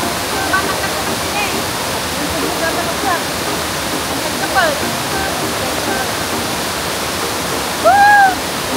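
Waterfall on a hiking trail, a loud, continuous broadband rush of falling water filling the whole stretch, with a few faint chirps and a brief higher whistle near the end.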